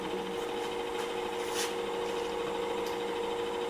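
A wood lathe spins a salt cellar box at low speed, a steady mechanical whir with a fine rattling texture and faint higher scrapes, constant and close throughout with no talk.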